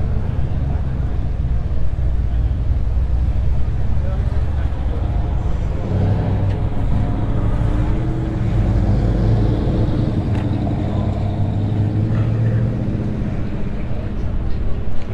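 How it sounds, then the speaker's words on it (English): Strong wind gusting steadily outdoors beside an unrestored 1980s Buick Grand National, a loud continuous low rumble and roar across the whole stretch, with someone talking over it. "Boy, it's windy today."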